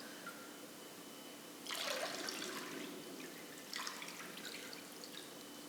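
Water squeezed from a soaked wool sweater in a bathtub, two close bursts of splashing and dripping onto the tub over a steady background hiss, with no talk.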